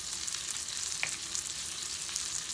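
Filet mignon sautés in butter with garlic and herbs, giving a soft, steady sizzle with light crackles and a few spits. It stays fairly quiet throughout, with no talking.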